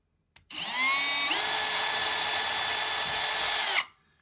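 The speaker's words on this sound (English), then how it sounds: "I'm going to drill my pilot holes" A power drill bores pilot holes for mounting a magnetic door stop, whining up from about half a second, climbing in pitch and holding a steady high drone for roughly three seconds before stopping abruptly, close and loud with no talk.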